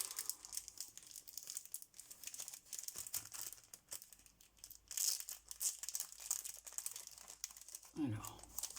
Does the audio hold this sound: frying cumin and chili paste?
no